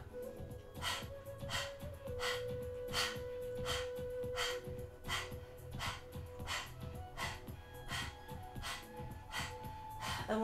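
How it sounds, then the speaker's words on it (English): Rapid, rhythmic dog-like panting breath with the tongue out during a Kundalini yoga breathing exercise, pulsing steadily and evenly for the whole stretch, close and moderately loud over a low background hum. "Powerfully panting like a dog."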